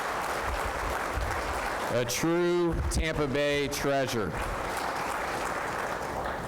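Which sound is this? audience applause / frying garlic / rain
audience applause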